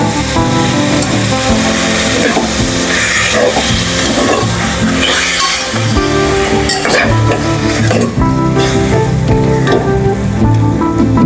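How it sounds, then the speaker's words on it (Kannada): Half a kilo of prawns frying and being stirred in a pan for homemade prawn biryani, a steady loud sizzle with scraping stirs throughout and no talking. "ಈಗ ಇದಕ್ಕೆ ಅರ್ಧ kg ಸಿಗಡಿಯನ್ನು ಹಾಕುವ. ಇದನ್ನೀಗ ಚೆನ್ನಾಗಿ ಫ್ರೈ ಮಾಡಬೇಕು."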